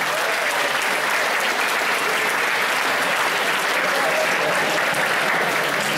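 Audience at a school music video premiere applauding steadily throughout, dense sustained clapping from a full room at a loud, even level, with no voices standing out.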